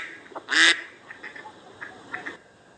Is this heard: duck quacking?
yes